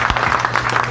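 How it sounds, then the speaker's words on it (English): Audience applause for Barbara Lee and Mike Honda at an AsiaSF event in San Francisco, a steady burst of many hands clapping, loud and close, with no talk over it. "give them a round of applause."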